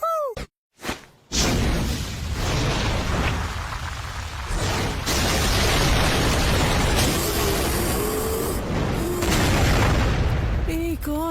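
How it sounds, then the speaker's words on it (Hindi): A loud explosion booms, then gives way to a long, roaring rumble with whooshing bursts and a few high whistling tones. "एक और विस्फोट।"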